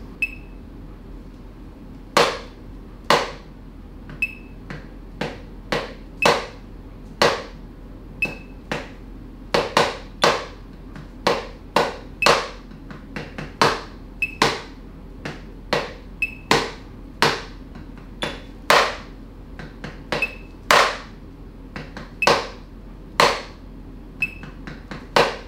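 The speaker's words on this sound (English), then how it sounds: "You're going to feel whatever the metronome is actually playing." A slow metronome clicks steadily, with evenly spaced sharp ticks sounding one after another, close and clear with nothing else heard behind them.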